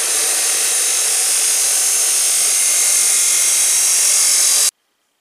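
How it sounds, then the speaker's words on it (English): A chop saw cuts a coupling to length for a homemade rocket motor, giving one loud, steady high-pitched whine that runs for almost five seconds and then stops abruptly, leaving silence. "we'll put it on the chop saw and cut it off"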